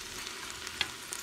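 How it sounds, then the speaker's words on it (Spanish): Ingredients frying in olive oil in a pan while making a marlin swordfish and shrimp soup, a soft continuous sizzle with a few faint crackles and stirring clicks, fairly quiet and without talk. "Vamos a dejar que se dé una quemadita con el aceite de oliva."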